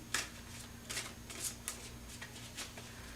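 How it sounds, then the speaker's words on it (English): Tarot cards being shuffled by hand give a series of crisp, papery riffles and flicks in irregular bursts, close and moderately quiet, with no talking. "Trying not to drop these cards. Every time I shuffle them, they want to fly out."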